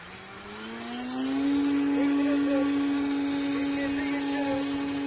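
A small unmanned aerial vehicle's engine revs up at full throttle and then holds a steady high drone, loud and close, with a rising pitch early on before settling.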